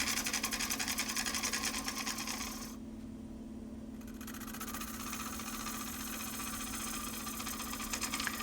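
Steady mechanical drone of a wood lathe spinning a live edge pear bowl, with a bowl gouge cutting the inside floor, continuous and close with a brief dip in the cutting noise midway.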